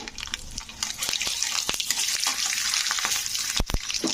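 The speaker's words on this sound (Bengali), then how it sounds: "ফোড়নটা দেখো ভাজা হয়ে গেছে এরপরে দিয়ে দেবো আমি একটা শুকনো লঙ্কা আর দুটো কাঁচা লঙ্কা" Dried and green chillies sizzle steadily in hot oil with whole-spice tempering, a bright continuous frying hiss close by, broken by a few sharp clicks and stirring scrapes.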